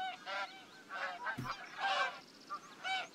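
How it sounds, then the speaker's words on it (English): Geese honk repeatedly in uneven bursts, moderately loud, with a short knock-like thud between calls, in the video game The Hunter: Call of the Wild. "Some geese."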